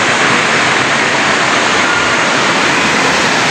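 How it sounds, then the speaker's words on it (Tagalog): A loud, steady roar of falling water, dense and unbroken, close to the tall Hinulugan Taktak waterfall in Antipolo City, Philippines. "Sa sobrang taas ng falls, bula na yung tubig."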